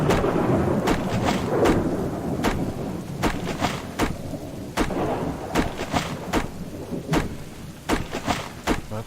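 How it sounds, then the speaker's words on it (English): A thunderstorm in the video game Subsistence: steady rain hisses beneath repeated sharp, cracking thunder bursts that arrive at irregular intervals, loud and close, with no talking. "it's pointless me trying to shout over this storm"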